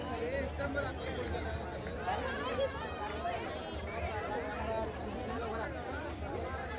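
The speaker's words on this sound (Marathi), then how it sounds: "इकडे पण बघू शकता किती मोठ्या प्रमाणात इथे गर्दी झालेली आहे." A large crowd of pilgrims gathers at the Bhima Koregaon victory pillar on 31 December, producing a constant wash of chatter and overlapping voices nearby, with no single speaker standing out.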